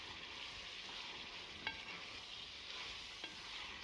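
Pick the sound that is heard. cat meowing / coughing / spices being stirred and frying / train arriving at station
spices being stirred and frying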